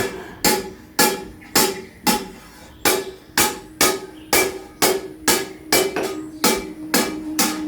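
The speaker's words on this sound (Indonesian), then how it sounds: "pinggirnya dikasih rata dengan dipukul-pukul" A village blacksmith in Pandantoyo, Ngancar, Kediri hammers the edges of a metal blade flat. About a dozen loud, close, ringing strikes fall at a steady rhythm, each with a short metallic decay.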